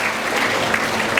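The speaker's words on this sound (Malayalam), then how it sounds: "എല്ലാവർക്കും ഒരു കൈയടി കൊടുക്കാം." Audience applause at an educational talk on parenting, a steady dense patter of many hands clapping together through the short stretch with no speech over it.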